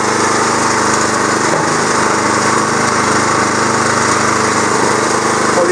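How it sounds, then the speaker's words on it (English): Engine-powered auger running outdoors, a loud, continuous buzzing small-engine drone close by with steady rattling, holding level throughout. "Run the auger."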